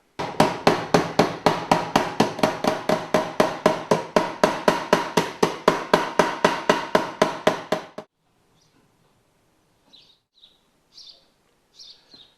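A hammer striking an aluminium chassis panel to form it around a round tube: about thirty quick, evenly spaced metallic blows for eight seconds, loud and close, then near silence with a few faint bird chirps.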